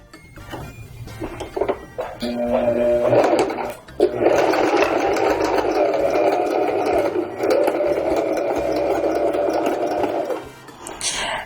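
A sewing machine stitches a wide zigzag seam on fabric, running close and loud in short bursts before settling into one long steady run that stops near the end.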